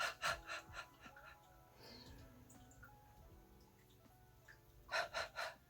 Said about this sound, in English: and then you exhale and you exhale.